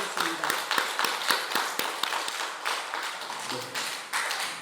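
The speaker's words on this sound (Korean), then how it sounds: "우리 힘차게 박수로 환영하도록 하겠습니다" A church congregation at a Sunday morning service claps to welcome newcomers, with sharp, uneven individual claps close by that form a lively, irregular rhythm and briefly swell into fuller applause.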